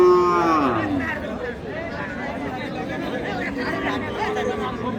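Cows low loudly at a busy cattle market where cows and young bulls are sold, a long drawn moo up close followed by steady crowd chatter and bargaining voices.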